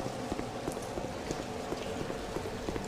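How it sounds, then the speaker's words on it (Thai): Steady rain hisses continuously through a horror game's outdoor scene, a dense wash of patter with faint scattered drops, no speech. "ฝนก็ตกอะโอ้โห"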